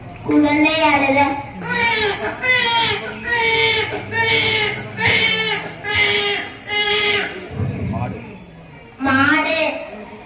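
A girl student's voice imitates a baby crying, a string of short, wailing sobs in a steady rhythm, loud and close, with a brief pause near the end before one more cry.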